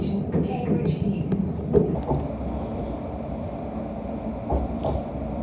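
London Overground Stadler train running to Cheshunt via Seven Sisters, a steady low rumble of the carriage in motion with occasional clunks and rattles, heard from inside throughout.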